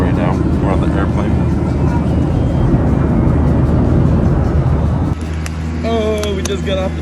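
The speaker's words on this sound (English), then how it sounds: "We're on the airplane." Steady, loud airplane cabin roar during a passenger flight to Atlanta, a continuous broadband engine and air rush that shifts character near the end as the scene changes, with brief faint tonal sounds over it.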